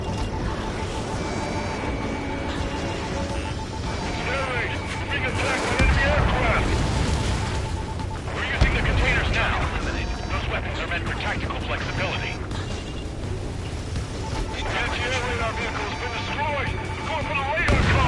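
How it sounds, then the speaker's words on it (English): Anti-aircraft guns pound away in Ace Combat 7, with rapid bursts of gunfire and heavy booming explosions layered densely and loudly over one another, while voices come through amid the din. "Intercept! Fire the AA!"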